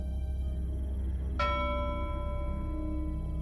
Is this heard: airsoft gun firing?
no